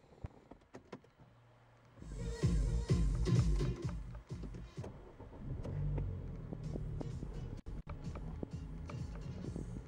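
A Peugeot 508 engine cranks and catches, settling into a steady idle, with a few clicks and knocks before and after.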